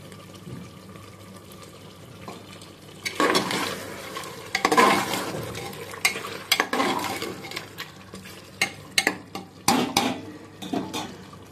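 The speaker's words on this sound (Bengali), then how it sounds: "দেখেছেন কিভাবে তেল ছেটে" Chicken cooks in an oiled wok with clattering pot and utensil noise, irregular bursts of spattering and scraping that grow louder and busier after a quiet start.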